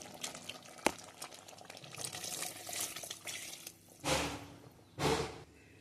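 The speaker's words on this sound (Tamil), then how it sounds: "நல்லா கொதிக்குது." Bubbling, churning water in a pot of sautéed ingredients with steady low rumble, a sharp clink, and two louder surges of vigorous boiling near the end.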